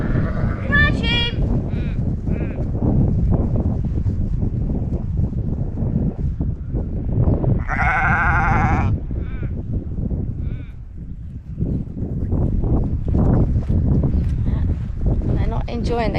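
Sheep bleat repeatedly on a farm, close and loud, while a person calls to them over steady wind noise across the microphone.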